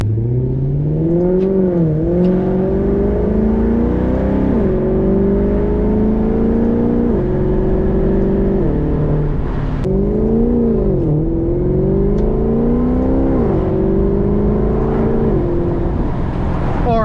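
Maserati GranTurismo engine heard from inside while driving, a loud, steady droning hum that rises and falls in pitch through repeated gear changes over seventeen seconds, with no talking.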